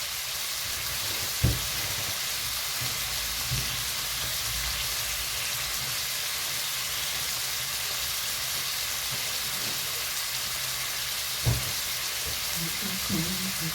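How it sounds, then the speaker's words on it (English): Steak sizzling in a frying pan alongside chips, a steady, even hiss of frying throughout with a couple of soft knocks, no voices. "We're getting sizzlage up here."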